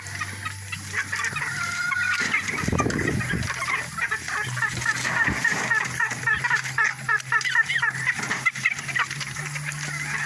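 Chickens and a rooster on a backyard farm, kept in their pen on a muddy, rainy day, cluck steadily and close by, with a brief low rumble early on and occasional voices underneath.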